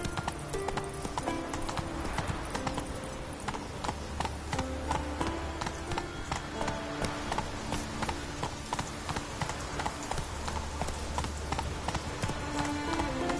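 A horse gallops in The Witcher 3, its hooves beating a steady, fast, close clip-clop rhythm that continues throughout, loud and unbroken by talk.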